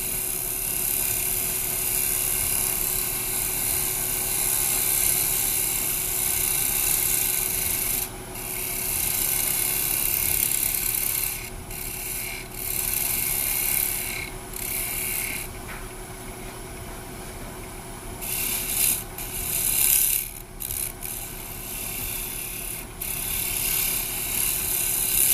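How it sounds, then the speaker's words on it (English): A carbide Osprey tool takes a slow finishing cut across a wooden bowl on a lathe, making a continuous, close, rasping scrape with a few brief dips where the cut pauses. "I'm going to do maybe a nice finish cut using the osprey tool this time, just as I would a bowl gouge, to go around in a nice slow cut here"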